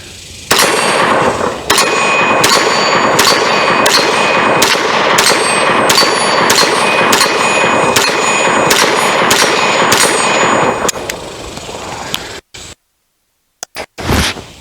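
A Magnum Research Baby Eagle 9mm pistol fires at steel targets from 22 yards: about a dozen loud, evenly spaced shots, each followed by a ringing metallic clang. The string ends, then a short silence and a few faint trailing noises.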